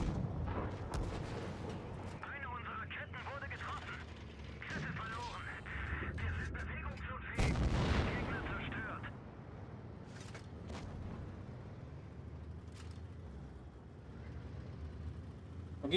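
In an online tank battle game, a tank cannon fires one heavy, booming shot midway, with lighter blasts and engine rumble around it and voices in the background.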